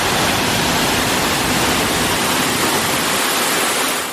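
Waterfall among the rocky theming of Epcot's Canada pavilion. A loud, even rush of falling water roars steadily from start to finish with no voices over it.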